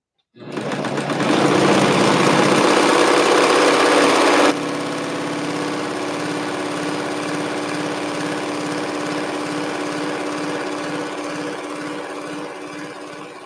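An old mechanical sewing machine runs continuously with a loud rapid rattling hum, louder at first and then settling into a steady, slightly quieter whir.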